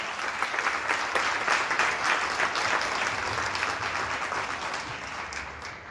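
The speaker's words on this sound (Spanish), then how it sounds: "Un fuerte aplauso para el Padre Oliva." An audience applauds Padre Oliva with sustained, dense clapping that holds steady for several seconds and fades slightly at the end, with no voices over it.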